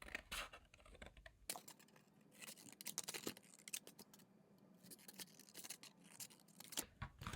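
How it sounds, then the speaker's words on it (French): Scissors cut through paper for a small chocolate box, giving a run of crisp snips and rustling scrapes at close range, with a brief quiet gap partway through. "Nous allons prendre un ciseau et nous allons venir découper."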